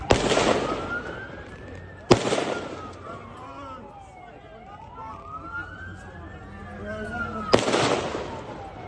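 Gunshots during an attack at Bondi: three sharp, loud cracks spaced a few seconds apart, while a police siren wails and sweeps up and down in the background.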